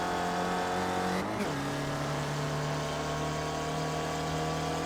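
Onboard race car engine in iRacing on the Tsukuba 2000 Circuit, an SRF spec racer droning steadily with a brief gear-change dip early on, loud and continuous close up.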